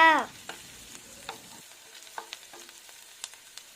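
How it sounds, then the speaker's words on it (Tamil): Garlic and ginger sizzle briefly in a hot pan for veg Manchow soup, then a spatula scrapes and taps against it in scattered, clear knocks. "நல்லா வதக்குங்க"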